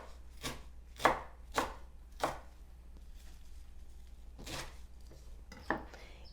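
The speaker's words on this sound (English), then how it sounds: "So I'm gonna cut up all of my herbs," A knife chops fresh herbs such as basil, thyme, oregano and cilantro on a board in a home kitchen: sharp, close, separated strikes in small irregular bursts over a faint steady hum.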